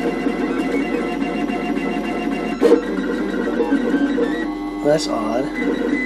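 A 3D printer lays down a 1 mm base for infinity base toppers, its steady mechanical hum and stepper whine running continuously at close range, with a voice talking over it in a few places.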